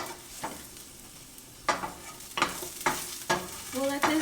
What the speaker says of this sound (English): we'll let this saute a little bit more